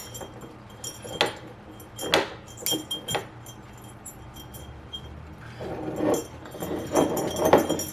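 Small metal wire snips being picked up and handled, with scattered light metallic clinks and rattles in bursts, close by and fairly faint.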